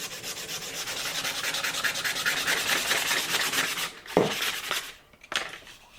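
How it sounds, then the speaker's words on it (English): Rhythmic back-and-forth rasping of sandpaper rubbed by hand over wood, steady strokes for several seconds, then a couple of knocks and a pause; close up. "hand sanding's boring, really boring."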